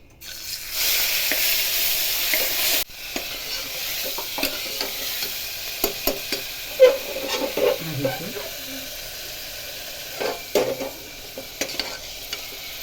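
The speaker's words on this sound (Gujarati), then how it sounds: "તેલ ગરમ થઈ ગયું છે, રાઈ પણ થઈ ગઈ છે. લીલા ધાણા અને લસણની પેસ્ટ છે ગ્રેવી કરેલું, તો તેમાં એડ કરીશું." Garlic and green coriander paste hits hot oil with popped mustard seeds, making a loud burst of sizzling that settles into a quieter crackle with intermittent scraping and clinking as it is stirred.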